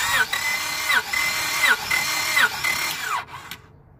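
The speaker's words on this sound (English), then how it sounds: "So I'm gonna crank the engine one more time" Car engine cranking on the starter during a compression test for a misfire, heard as a loud, rapid rhythmic churning with regular surges that runs for about three seconds before stopping abruptly.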